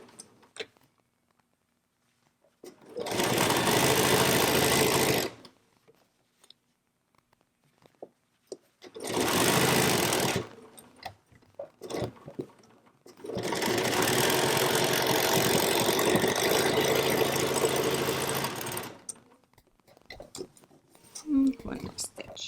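A sewing machine stitches a fabric face mask in three bursts of rapid, steady whirring, close by, separated by quiet pauses with light clicks.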